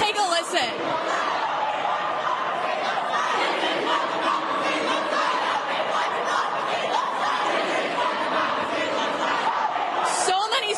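Protesters packed into a state Capitol hallway, students, parents and grandparents among them, chant loudly and continuously for change, a dense, echoing roar of many voices that fills the whole stretch.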